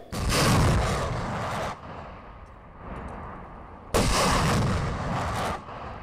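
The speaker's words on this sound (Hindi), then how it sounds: "ये देखिए टॉस 1A मिसाइल से अटैक किया गया है।" Explosions from a Russian TOS-1A missile attack: two long, loud, rumbling blasts, each lasting about two seconds, separated by a lower lingering rumble.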